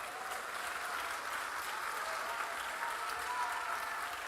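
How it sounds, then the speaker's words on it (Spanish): Church congregation applauding, a continuous dense wash of clapping at moderate distance, with no voices standing out. "denle un aplauso fuerte al Señor"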